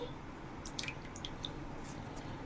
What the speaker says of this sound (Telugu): ఇప్పుడు రవ్వలోని వాటర్ అంతా గట్టిగా పిండేసి పప్పులో వేసుకుందామండి